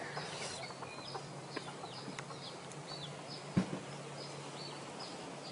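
Chickens cluck softly in the background at a location in Hua Hin, Thailand, scattered brief calls over quiet ambient noise with a single louder knock.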